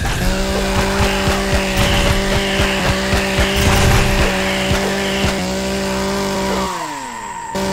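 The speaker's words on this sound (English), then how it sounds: "I can't believe the chainsaw actually worked." Chainsaw in the video game Empyrion Galactic Survival revving loudly as a sustained buzzing drone with steady harmonic whine, close and continuous before dropping off near the end.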